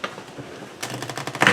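A deck of stiff cardstock cards is shuffled, a short quiet pause and then a quick burst of rapid riffling clicks that ends in a sharper flutter, close and alone.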